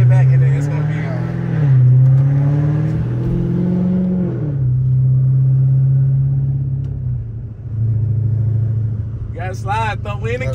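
A Dodge Hellcat Redeye driving down a neighborhood street, its supercharged engine droning loud and close with several revs rising and falling, while people talk over it.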